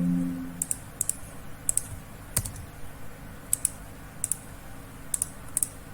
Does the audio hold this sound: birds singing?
no